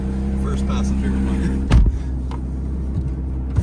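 A Porsche 911 ST heard from the passenger seat, a steady low engine drone filling the cabin with a brief thump partway through, while people talk over it.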